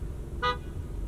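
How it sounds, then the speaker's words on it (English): A car horn gives a single short honk at a red light, a brief bright toot over low, steady traffic rumble. "Why did that car honk me?"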